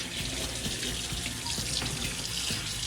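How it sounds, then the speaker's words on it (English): Cold water runs steadily from a kitchen sink tap over a cured rattlesnake skin, a continuous close splashing rush with faint irregular patter of water on the hide and sink. "Rinsing off the alcohol and glycerin residues that are left on from the curing process."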